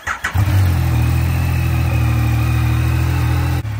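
After a brief rumbling start, a Yamaha Niken three-wheeled motorcycle's engine holds a loud, steady, close-up hum before cutting off abruptly near the end.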